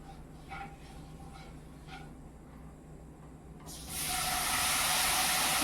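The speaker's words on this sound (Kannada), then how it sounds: "ಇಷ್ಟು ಹಾಕಿ ಪನ್ನೀರನ್ನ ಫ್ರೈ ಮಾಡ್ಕೊ" Paneer frying in a pan gives a low, steady sizzle that swells into a louder, bright hiss partway through, with faint clinks over the top.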